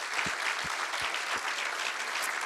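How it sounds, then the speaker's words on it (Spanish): A congregation at a church sermon applauds briefly, a steady wash of clapping at moderate distance with a few low thumps underneath, continuous for a couple of seconds. "Le damos un aplauso al Rey en esta hora."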